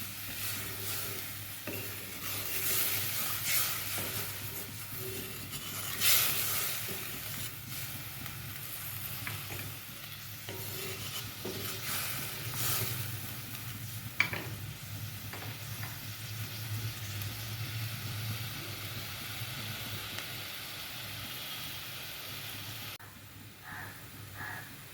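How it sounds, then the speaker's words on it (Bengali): Curry broth bubbles and simmers in a pot on a gas stove, a steady soft sizzling and bubbling hiss with occasional stirring clinks, close and continuous. "এবার ঝোলটা একটু ভালো করে ফুটিয়ে নেব।"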